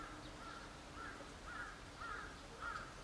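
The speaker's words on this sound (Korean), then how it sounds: "저 까마귀 소리를 듣고 있는 이 순간에도" A crow caws five times in a steady, evenly spaced rhythm, sounding faint and distant over a quiet outdoor hush.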